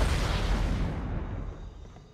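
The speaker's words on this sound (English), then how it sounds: "Good lord, that was every explosion." Explosions boom in a Halo: Combat Evolved co-op session on Legendary difficulty, a loud, dense burst of blasts that rumbles and fades away over about two seconds with no talk.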